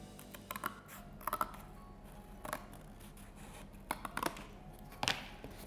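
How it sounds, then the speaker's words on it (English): Scissors snip through the edge of a gingerbread house piece in quick clustered cuts, faint and close, separated by quiet pauses. "so I'm just going to trim this down"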